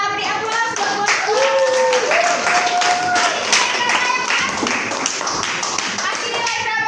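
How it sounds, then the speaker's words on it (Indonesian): Classroom of students clapping together in a sociology lesson, a dense, lively round of applause lasting several seconds, with voices talking and calling out over it. "Kita beri aplaus buat"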